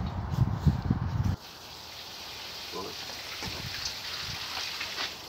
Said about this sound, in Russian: В теплице сухо, там дождя не было. Поэтому Юра сейчас будет поливать.